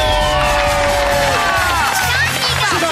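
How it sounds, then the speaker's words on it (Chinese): A studio audience at a television game show breaks into loud, dense applause and cheering, with whistles rising above the clapping. Voices are heard over the noise. "掌声鼓励！"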